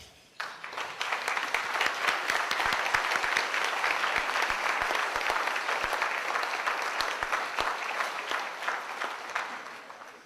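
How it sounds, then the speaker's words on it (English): Sustained applause from a crowd, steady and fairly loud throughout, with no voices over it. "I'd like all these folks to stand and accept your round of applause."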